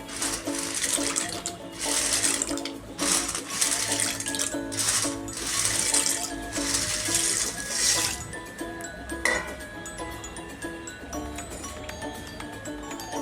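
Dry pasta goes into a pot of warm water for cooking in a home kitchen, giving irregular splashing and sloshing bursts that ease into quieter water movement, with no talk.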